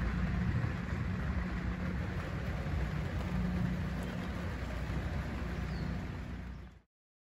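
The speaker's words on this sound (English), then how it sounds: "believe it or not, it's raining yet." Steady rain falls outside during a power outage, a dense, even hiss that holds at a constant level for about seven seconds before cutting off abruptly.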